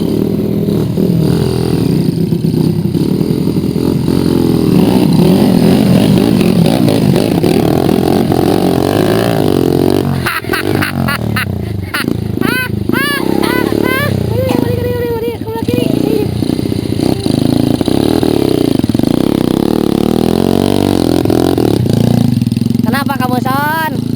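A motorcycle engine revs and accelerates on a mountain road toward Tangkuban Parahu, loud and close, rising and falling in pitch, with people talking over it.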